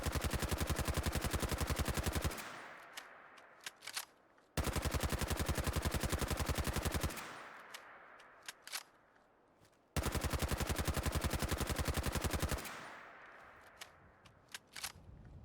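Rapid automatic rifle fire from Fallout 4 in three long sustained bursts, each trailing off into scattered echoing shots and shell clatter before the next burst starts, loud and close with no talking.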